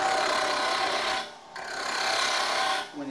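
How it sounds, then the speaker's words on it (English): A wood lathe spinning a workpiece on a Robert Sorby wobble chuck while a hand tool makes a light cut, giving a close, continuous raspy scraping that briefly dips before resuming. "Start the lathe and proceed with the next cut."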